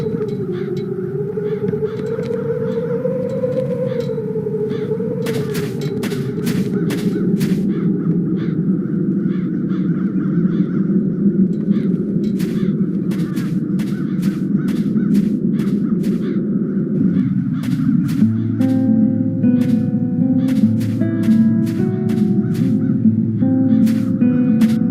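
Crows cawing in the Chains of Satinav game world, repeated harsh caws scattered over a steady droning ambient background, fairly close and prominent, with no speech.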